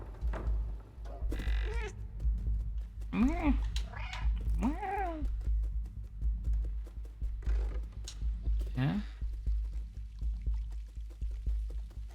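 A small cat in the video game Stray meows several times in short rising calls, heard fairly close over a steady low background hum with no talking.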